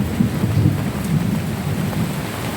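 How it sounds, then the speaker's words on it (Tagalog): Sudden heavy rain on a mountain, a loud, steady wash of downpour with a low rumbling roll of thunder underneath, continuous and close with no pauses. "Biglang umulan."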